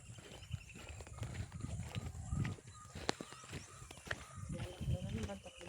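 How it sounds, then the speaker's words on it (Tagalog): Horse hooves clip-clopping along a road while walking to a family reunion, steady irregular clops at moderate distance under talking voices. "Kabayo na lang oh."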